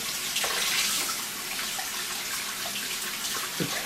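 Lamb ribs rinsed under a running tap in a home kitchen; a constant splashing, hissing stream of water with occasional small knocks and splatters, close and moderately quiet, with no talk.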